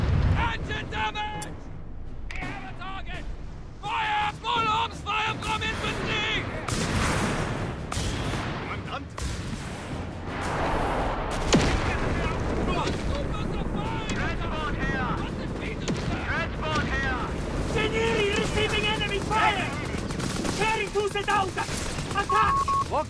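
Gunfire and artillery in the World War II strategy game Company of Heroes 3, dense rattling shots and heavy booming blasts going on continuously, with shouted voices over the battle.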